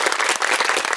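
A talk concert audience gives a short burst of dense, enthusiastic applause, many hands clapping loudly together at close range.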